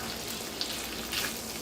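Beef tripe frying in a pan gives a steady, soft sizzle with faint crackles, quiet and continuous throughout with no talk.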